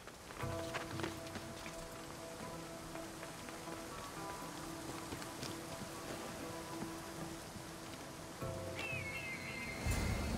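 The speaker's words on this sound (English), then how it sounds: "This is the waterfall." Rushing water from a waterfall in Assassin's Creed Odyssey spreads into a steady broadband wash with faint game music tones underneath, holding constant and somewhat distant before growing slightly louder near the end.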